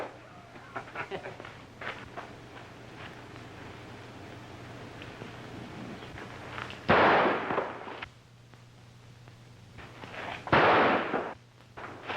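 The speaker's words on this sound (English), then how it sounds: "you think that shot was meant for me?" Gunfire in an old black-and-white frontier western, heard as two loud sharp bursts a few seconds apart cutting through ongoing dialogue and a low steady hum.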